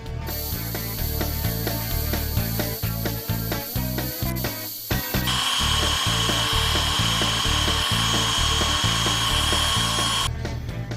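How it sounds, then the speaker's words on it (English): Abrasive paper rubs the inside of a wooden bowl spinning on a wood lathe, making a steady, loud whirring hiss with a rhythmic mechanical ticking throughout and a brighter scratchy texture through the middle section. "we're going to sand up the inside of that bowl"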